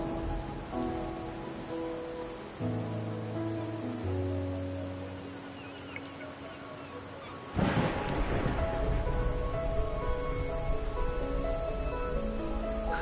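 Rainfall in the video game Wuthering Waves, a steady hiss under soft musical tones, joined midway by a loud rolling thunder rumble that lingers as the rain continues.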